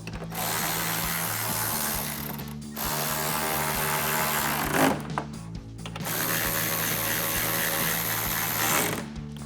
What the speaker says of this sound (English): We'll grab our ratchet, 10mm socket, and tighten those down.